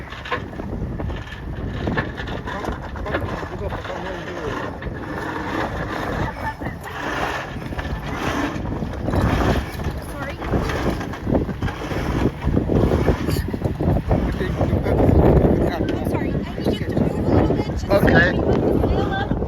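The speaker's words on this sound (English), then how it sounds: "So here we are about to start a boat tour journey." Rumbling tour boat engine and water on an outing in Lisbon, Portugal, with wind buffeting the microphone and growing stronger; voices talk faintly throughout.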